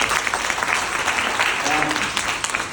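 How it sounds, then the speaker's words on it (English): Audience applause at a speaking event, a dense patter of many hands clapping for a couple of seconds, fairly close and lively, with a voice briefly heard over it. "I just want you to give a round of applause to Joanna for her courage."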